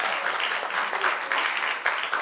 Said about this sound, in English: And participants, give your parents and all of your supporters a round of applause.